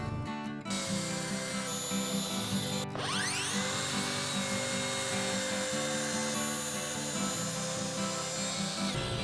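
Power saw cutting a plywood base to size in a workshop, a steady loud whine running the whole time with a brief break near the start and a short spin-down and restart just before the three-second mark.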